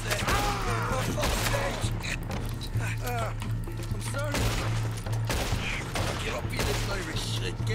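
Bursts of gunfire from a Red Dead Redemption 2 shootout crack repeatedly amid game noise and music, under near-constant talk from players.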